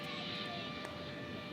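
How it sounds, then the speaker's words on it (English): An air start GPU unit buzzes at DFW International Airport, a steady droning whine with tonal hum held throughout, moderately distant with no talking. "And that buzzing sound you hear is the air start."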